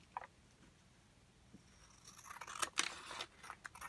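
Scissors cut through paper while making journal ephemera: faint, close snips cluster in a brief run near the end, with light handling rustles in a quiet room.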